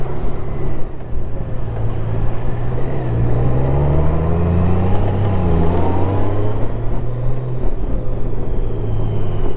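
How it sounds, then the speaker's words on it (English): A Honda Gold Wing 1800 DCT motorcycle engine winds up on a ride, a loud low drone whose pitch climbs and falls across several gear changes, steady and close throughout. "that motor just winds up when you want to pull it round"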